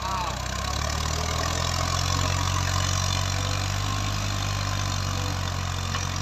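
A Ghazi tractor pulls an 11-tine cultivator through a cotton field in Punjab, its diesel engine a steady, loud, low drone that holds an even pace throughout.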